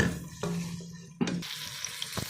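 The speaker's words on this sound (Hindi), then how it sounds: "अब हम इसमें ये टमाटो शामिल करेंगे। 2 अदर टमाटो थे और अब इसको भूनेंगे।" Tomatoes fry with chicken in a pan for aloo gosht shorba, giving a sizzle with intermittent scraping stirs and a few sharp clinks of a utensil, close by.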